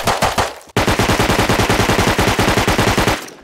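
Rapid automatic gunfire in the survival game Rust, a loud, steady burst of evenly spaced shots after a brief opening salvo and a short pause, with no talking.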